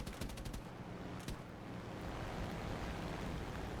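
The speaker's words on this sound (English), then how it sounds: "Combat flaps on, should have a shot here. And we do, we set him afire." Aircraft machine-gun fire in War Thunder: a few rapid bursts of rattling shots early on over a constant loud rushing wind roar that continues alone afterward.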